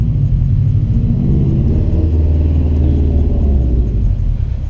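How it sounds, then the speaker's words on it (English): A race car idles nearby in a driveway, a loud, deep, steady rumble with slight uneven pulsing that carries on for several seconds and drops a little at the end, with no speech. "Neighbor Wes in the race car."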